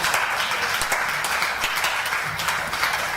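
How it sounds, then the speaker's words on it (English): Audience at a church altar conference gives a sustained clap offering, dense applause filling the room steadily for a few seconds with faint voices mixed in. "Give the Lord a clap offering."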